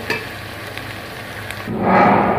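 Onion and ginger-garlic paste fry in a pot; a quiet background hiss gives way to a louder, fuller sizzle near the end as the paste hits the hot oil.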